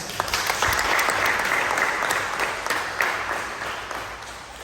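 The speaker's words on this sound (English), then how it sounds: "Then give it a round of applause for standing." Primary school children in Montserrat break into loud, close applause, a burst of clapping that holds steady and then slowly tapers off.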